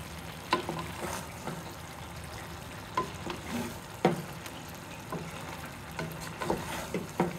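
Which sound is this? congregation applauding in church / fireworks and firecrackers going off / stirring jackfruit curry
stirring jackfruit curry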